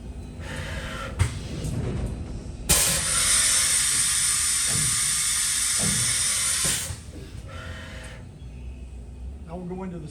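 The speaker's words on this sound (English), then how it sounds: "One more tool change." During a tool change on a Siemens-controlled SYIL V7 CNC vertical machining center, a loud pneumatic air hiss lasts about four seconds, framed by mechanical clunks and knocks. A person talks around it.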